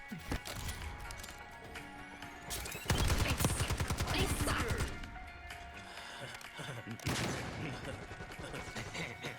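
Sentry turrets fire in a video game battle, with dense rapid bursts of gunfire, some loud and near, others softer, under a voice speaking.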